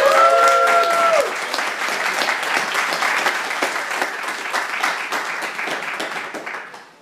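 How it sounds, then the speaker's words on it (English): Hearty audience applause at a software defined radio meetup, a dense, steady wash of many hands clapping that stays strong before fading out at the end. "I think that was a pretty hearty applause there."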